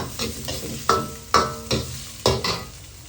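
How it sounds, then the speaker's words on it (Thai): Shallots stir-fried for pad thai with shrimp in a hot pan, a steady close sizzle broken by several sharp scraping strokes of a spatula at uneven intervals. "ผัดหอมนะ"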